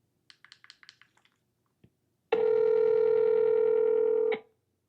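A phone call is placed: a quick run of faint dial-pad taps, a short pause, then a steady ringing tone lasting about two seconds before it cuts off.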